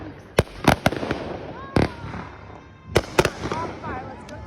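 Fireworks burst outdoors in several sharp, loud bangs, some in quick pairs, with crackling and whistling between them.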